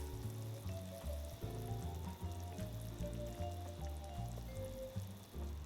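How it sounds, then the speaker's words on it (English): Three tablespoons of butter melt into a simmering white wine and sun-dried tomato sauce in a pan, giving a faint, steady bubbling sizzle beneath a louder rhythmic musical background. "Now I'm gonna add in 3 tablespoons of butter"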